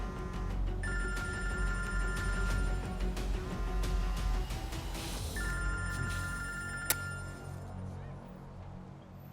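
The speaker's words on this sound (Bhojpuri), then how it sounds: "तो हर फोन की घंटी बजाता, उठावा।" A telephone bell rings in repeated bursts, loud and close, with a pause between two long ring sequences over a steady background hum.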